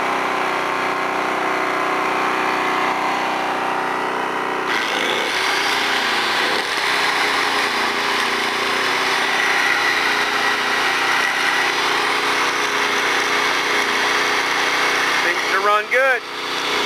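An Alton AT04141 generator runs close by with a steady, buzzing small-engine drone. A brief clatter briefly breaks it, and near the end a sharp whine rises over the hum.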